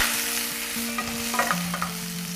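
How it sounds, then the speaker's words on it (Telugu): Mixed vegetables fry together in a pan for Egyptian koshary, a steady close sizzle with occasional light stirring scrapes and a low hum underneath. "ఈరోజు నేను అన్ని వెజిటబుల్స్ ఒకటేసారి వేసేసుకుని వేయించుకుంటున్నాను."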